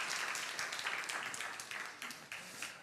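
A church congregation at a young adults' worship service claps together in warm, sustained applause that fills the hall and then gradually thins out toward the end.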